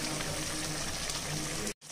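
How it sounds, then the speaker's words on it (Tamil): Sesame oil pours into a pan with a steady hissing, trickling sound, continuous and close by, then cuts off abruptly near the end. "இப்ப நல்லெண்ணெய் கொஞ்சம் நிறைய விட்டுக்கணும்."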